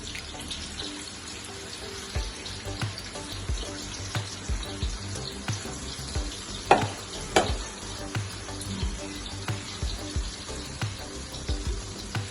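Corn for crispy corn fries in hot oil with a constant close sizzle, punctuated by regular soft knocks and stirring sounds, and a sharper crackling burst midway.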